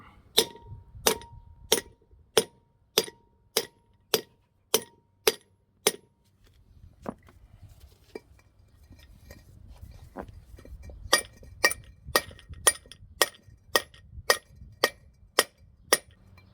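Sharp metallic hammer strikes knock out a Ford Fiesta rear wheel bearing in a steady rhythm, about ten blows, a pause with faint rustling, then another run of evenly spaced ringing hits.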